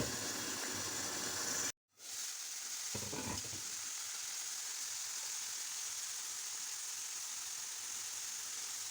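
Mushrooms fry in a pan with a steady, close sizzle that cuts out briefly, then resumes as a soft scraping stir before settling back into constant frying.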